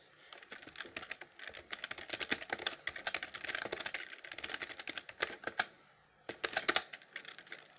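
Rapid, uneven keystrokes on a computer keyboard as a password is typed during Windows 10 setup, a quick clatter of clicks with a short pause before a final burst.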